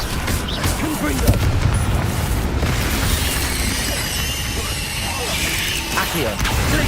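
Confringo blasting spell explosions erupt in Hogwarts Legacy combat, loud booming bursts with crashing debris over a constant roar of battle effects, a strong hit early on and voices mixed in.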